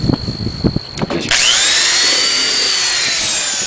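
A countersink drill bit cuts screw holes in a wind turbine part, starting with a few short bursts and handling sounds, then a loud sustained drilling whine that holds steady close by.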